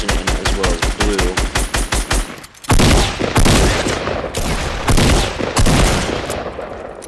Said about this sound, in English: I'm of course talking about the gray submachine gun